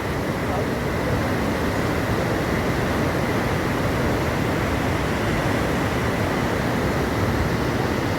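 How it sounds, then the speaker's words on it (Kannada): Swift Alaknanda river water crashes over rocks near Vishnu Prayag in Uttarakhand, an unbroken, loud, close rushing roar that holds steady throughout with no break or pause. "ಅಲಕ್ನಂದ ಸ್ಪೀಡ್ ಜಾಸ್ತಿ. ನೋಡಿ ಬಂಡೆ ಹೊಡೆದು ಬರ್ತಾ ಇದೆ ನೀರು ಮೇಲೆ."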